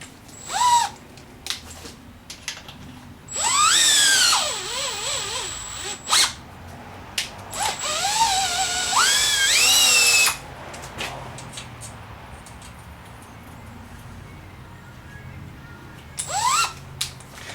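A power drill whines in bursts while drilling on a 1959 Volkswagen single cab, rising and falling in pitch as it spins up and slows, with short pauses between runs.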